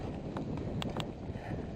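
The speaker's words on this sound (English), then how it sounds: "But it is windy now." Gusty wind buffeting the microphone on a wet outdoor path, giving a steady low rumble with a few brief clicks.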